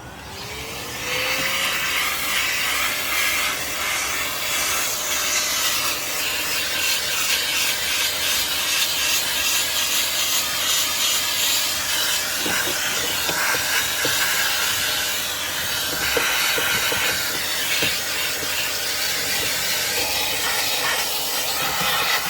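A Parkside wet vac's steady hissing roar runs throughout, with scraping and rubbing as the crevice tool works over car interior surfaces, loud and close.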